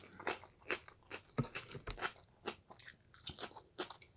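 Crunchy chewing of cabbage kimchi close to the mouth, a steady series of crisp bites and crunches repeating every fraction of a second, fairly quiet with no talk.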